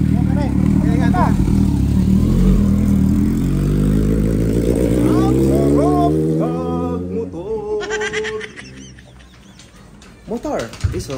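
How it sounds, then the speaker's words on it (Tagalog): A motorcycle engine runs close by, its tone rising and falling as it revs, loud at first and then dropping away, with people talking over and around it. "Motor is alive."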